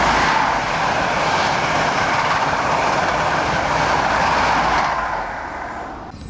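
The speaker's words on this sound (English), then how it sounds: "we get passenger and freight trains up here" A passenger or freight train rumbles past on the railway line north of Wellingborough, looking toward Kettering, a loud, steady rolling roar with faint rail clatter that fades toward the end.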